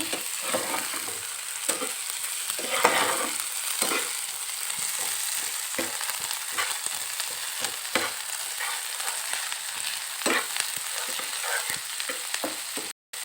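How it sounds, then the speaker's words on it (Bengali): Chopped onion with ginger-garlic paste sizzling steadily in a hot pan, with a spoon scraping and stirring at frequent intervals; close and continuous, no talking. "এবার দিয়ে দেবো বেটে রাখা আদা রসুন এটাকেও একটু ভালো নাড়া ভালোভাবে একটু নাড়াচাড়া করে নেব"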